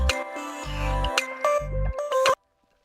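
Short electronic music loop with the drums muted, bell-like synth tones sustained over deep, booming bass swells, playing loud and close before cutting off abruptly into silence.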